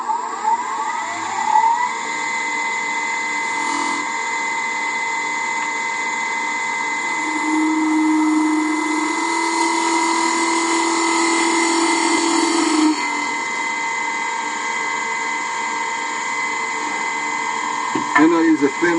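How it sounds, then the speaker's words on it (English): A thin parting tool cuts into a spinning mahogany box blank on a wood lathe, making a steady close whine and hum with a brighter scraping stretch partway through. "I'll use a thin parting tool so I don't waste any more wood than I need"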